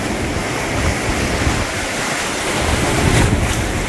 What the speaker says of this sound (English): This is Tacoma Rapids.